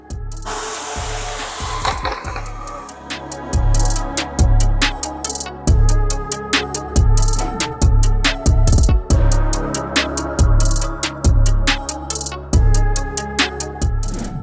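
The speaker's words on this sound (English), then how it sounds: "the next step is to send it to the workhorse plotter to cut out the pattern" A Workhorse plotter cuts a paint protection film pattern for a car front fender, its carriage whirring and scraping in a steady series of repeated strokes with regular knocks, loud and close with no talk.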